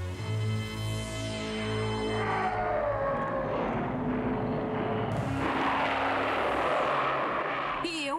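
A Wind Raider aircraft flying in a He-Man cartoon, a whooshing engine roar with swooping pitch sweeps that builds into a loud, rushing fly-by noise, heard alone without talk.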